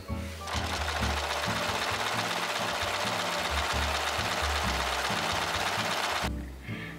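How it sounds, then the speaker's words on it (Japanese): An overlock serger finishes the fabric edges of a blouse, running in one fast, continuous mechanical whir for about six seconds, close and steady before stopping abruptly. "ロックミシンで端処理ができました。"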